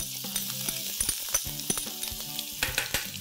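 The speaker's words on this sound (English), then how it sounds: "I'm going to splutter half a teaspoon of cumin seeds" Half a teaspoon of cumin seeds crackle and splutter in hot oil, a quick run of small sharp pops over a soft sizzle, close up and alone.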